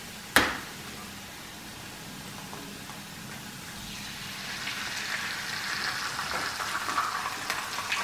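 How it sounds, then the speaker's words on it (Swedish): An egg frying in butter in a hot pan, with a steady close sizzle that slowly grows louder after a sharp click at the start, and no talking. "medan det steker"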